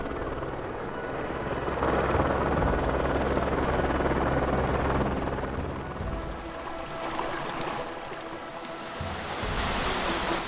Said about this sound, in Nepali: तपाईँको हेलिकप्टरको आवाज पछाडि सुन्दा सुन्दै पठाएँ